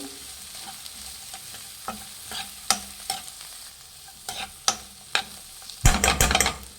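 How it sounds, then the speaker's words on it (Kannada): Coriander leaves and grated coconut fry in a pan, a faint sizzle running under sharp scrapes of a spoon against the metal, with a louder clatter of stirring near the end. "ಕೊತ್ತಂಬರಿ ಸೊಪ್ಪು ಫ್ರೆಂಡ್ಸ್ ಒಂದು ಸ್ವಲ್ಪ ಚೆನ್ನಾಗಿ ಫ್ರೈ ಮಾಡಿ"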